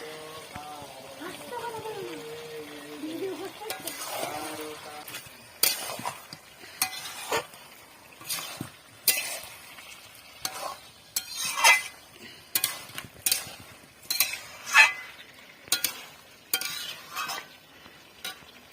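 Chicken curry being stirred in a pot after fried potatoes, tomatoes and green chillies go in, giving repeated scraping and clattering strokes over a light sizzle, with a voice talking near the start.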